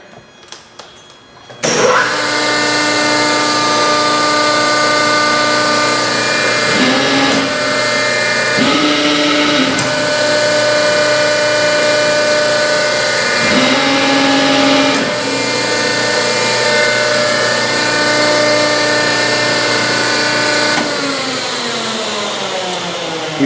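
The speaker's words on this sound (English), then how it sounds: "Big Cincinnati press brake, you've probably seen those. We'll just run it up and down real quick for you." A big Cincinnati press brake in a welding shop starts up and hums loudly and steadily, its tone shifting several times as the ram cycles up and down.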